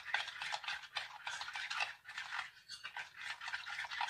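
A flour-based starter dough for white bread is mixed with a spoon in a bowl, giving a quick, continuous rhythmic scraping and swishing, soft and close, with a brief pause midway.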